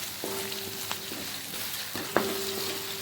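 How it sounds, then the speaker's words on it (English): Onions sauteing in a hot pan for egg fried rice, a steady low sizzle running throughout with a couple of brief stirring clinks and scrapes, no voices. "Saute the onion for about 3 seconds until the onion caramelizes"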